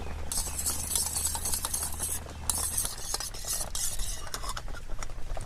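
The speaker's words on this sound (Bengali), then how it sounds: "ডিমগুলোকে ফাটিয়ে ফেটিয়ে নেব। আমি সামান্য পরিমাণ ডিমের মধ্যে একটু নুন দিয়ে দিচ্ছি।" Eggs with a pinch of salt are beaten in a bowl, a fast, steady clatter of utensil against the bowl that continues throughout at close range, with no talk.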